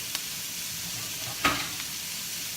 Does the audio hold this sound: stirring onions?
yes